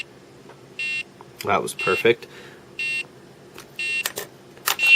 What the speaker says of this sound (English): The Game & Watch starts beeping